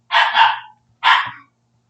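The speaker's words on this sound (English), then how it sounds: "Forgive me if you hear dogs barking in the background." Dogs bark close and loud in two sharp bursts, the first a doubled bark and the second a single bark, separated by a short silence, with no other sound around them.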